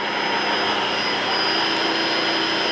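A wood lathe spins a spindle-turning blank for a barber's pole with a continuous loud, even hiss and whine from the motor and cutting, steady throughout with no pauses or voices.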